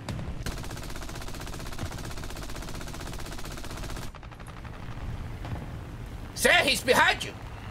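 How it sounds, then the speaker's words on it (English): Enemy gunfire in a video game, a continuous fast rattle of machine-gun fire at moderate distance, broken by a short pause and a louder burst near the end, with someone talking and laughing over it. "is that an enemy firing at me? Yes, it is."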